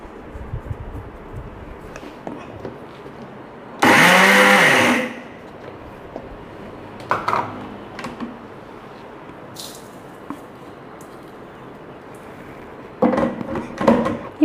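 A mixer grinder whirs in a loud, dense burst lasting about a second, coarsely grinding copra into a gritty powder. Quieter clatter and brief noises come before and after it.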